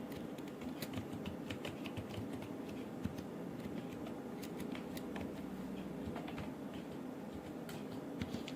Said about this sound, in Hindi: फिर टाइप करिए